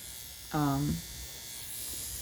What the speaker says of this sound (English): So I usually just shave them off with this.